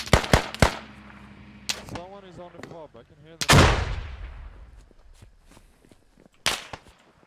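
Enemy gunfire in the military shooter Squad: sharp, loud cracks of single shots and short bursts, near and far, with a big blast midway and more distant shots after, over background noise and faint radio chatter.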